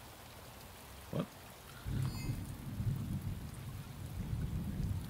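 Steady heavy rain falls in a detective video game, with a deep rumble of thunder rolling in after a brief knock; a voice speaks a single word near the start.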